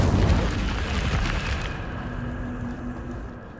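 An Incendio fire spell goes off in Hogwarts Legacy, a loud, roaring blast of flame that hits hard at the start and then fades over a few seconds into a dull rumble.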